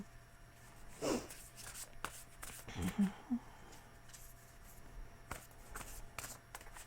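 Soft papery riffling of tarot cards being shuffled in a few short bursts, with light taps and handling noises, fairly close and quiet, no talking.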